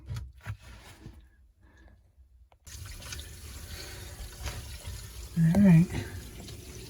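Water runs steadily into a fresh water tank after a leak repair, a continuous splashing flow that swells louder near the end, with a brief spoken remark at the start.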